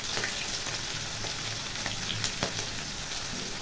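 Spices with turmeric fry in a pan alongside slit green chili, giving a steady, close sizzle with occasional sharp crackles and pops throughout.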